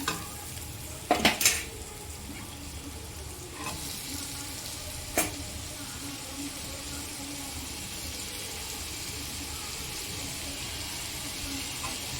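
An onion and tomato mixture for butter chicken is sautéed in a pan, giving a soft, even sizzle with a few sharp utensil scrapes and clinks near the start, then continuous quiet frying.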